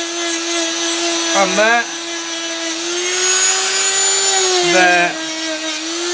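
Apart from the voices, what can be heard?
Dremel rotary tool sanding wood catapult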